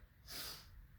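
A single sharp nasal sniff is drawn in before a kettlebell swing, brief and breathy, close to the listener in an otherwise quiet space.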